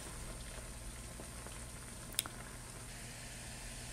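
Aloe vera oil bubbles at a low boil in a pot, a quiet continuous simmer with soft popping and a single brief click midway.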